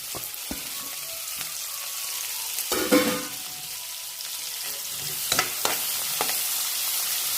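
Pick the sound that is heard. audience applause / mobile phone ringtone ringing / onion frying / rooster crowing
onion frying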